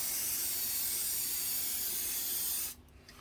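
Red K&N filter oil hisses from an aerosol can onto the outside pleats of a pod air filter in one continuous close spray that cuts off abruptly near the end, leaving quiet room tone.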